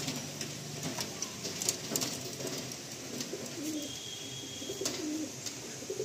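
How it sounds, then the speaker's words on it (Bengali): Madrasi pigeons at a loft coo softly as they are let out, with a few faint calls and light rustling over a quiet background. "আসুন আমরা ছেড়ে দেখাচ্ছি পায়রাগুলো।"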